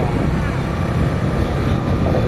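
Scooter with automatic transmission riding along a road, a steady close rumble of engine and wind buffeting the microphone throughout, loud and continuous with no voices.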